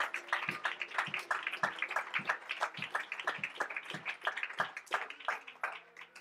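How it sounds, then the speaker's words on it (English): Congregation clapping hands in praise during a church service, a steady run of sharp, fairly close claps in a loose rhythm with no talk over them. "Clap your hands and give the Lord praise."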